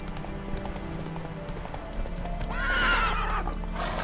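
Horse in The Witcher 3: Wild Hunt trots with steady clip-clop hooves, then lets out a loud whinny near the end, with faint game ambience behind.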